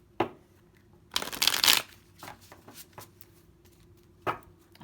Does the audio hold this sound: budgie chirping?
no